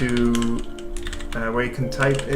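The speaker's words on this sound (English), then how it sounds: "now you can hear the lovely keyboard of Mario" Mechanical computer keyboard with large keys being typed on while filling in a form during a developer stream, clicks partly buried under talking and steady background sound.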